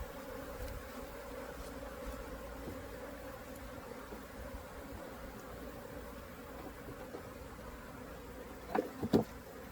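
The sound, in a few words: honey bees buzzing in hive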